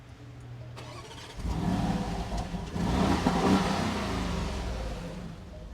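A 2024 Porsche Cayenne S with its 4.0-liter V8 cranking and firing up, a short starter whir followed by a loud roar that swells, dips briefly and settles into a strong, sustained rumble close by.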